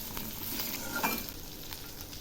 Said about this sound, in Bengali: এবার আমি একটু নেড়ে দিচ্ছি